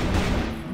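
A brief, loud, dense burst of rapid gunfire in the shooter game CrossFire fills the whole moment without a break.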